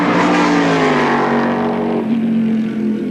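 A powerful sports car races past at the 1984 Australian Sports Car Championship: a loud, close engine roar whose pitch slides downward as it passes, then holds a high drone.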